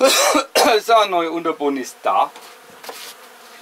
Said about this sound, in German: Da sind die Bienen natürlich schon gleich raufgegangen, die suchen ja ihre neue bestiftete Brut